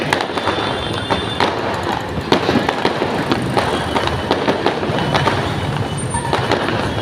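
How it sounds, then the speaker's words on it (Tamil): Fireworks crackle and pop continuously near a bus station, with sharp bangs scattered among a dense rumbling barrage, some close and loud, others more distant. "வானத்தால் பார்த்தீங்கன்னா ஒரே பட்டாசு மேலே அங்கேயும் டப்பா டப்பாடும் ஒரே சத்தம்"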